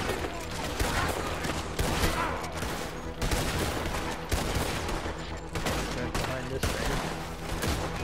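Dense gunfire in Red Dead Redemption 2, loud and continuous with repeated sharp shot bursts layered over a busy background, and some speech mixed in.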